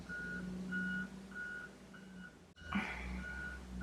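A truck backs up outdoors during a winter storm, sending out a steady series of evenly spaced reversing beeps over a low engine rumble, moderately distant, with a brief thump partway through.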